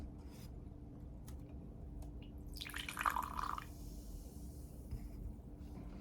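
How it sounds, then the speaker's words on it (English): Ryse Fuel energy drink pours into a glass in one short splashing burst partway through, with a faint liquid trickle over a quiet room hum. "Pour it into the glass."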